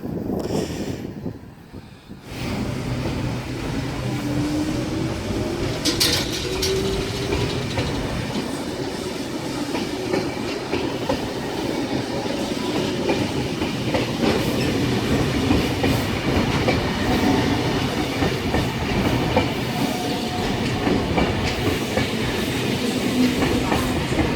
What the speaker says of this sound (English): And that was S89 and S104 past the down lane for a Campbelltown service.